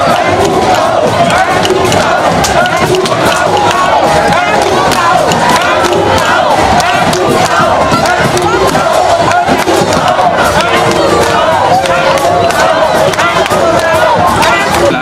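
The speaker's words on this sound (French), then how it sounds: "c'est une grande foule de militants et sympathisants du Parti uni qui a accueilli Faure Sozimna Gnassingbé" A large crowd of party militants and supporters cheers loudly and continuously at an open-air campaign rally in Togo, a dense, steady roar of many voices with shouts rising throughout.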